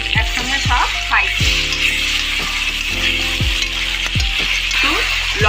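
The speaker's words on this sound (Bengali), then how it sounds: "গোটা গরম মশলা আর শুকনো লঙ্কা, তেজপাতাটাও একসঙ্গে সব ফ্রাই" Whole garam masala, dried chillies and bay leaf sizzle and crackle in hot oil with chopped onion, a steady frying hiss broken by scraping stirs of a spoon in the pan.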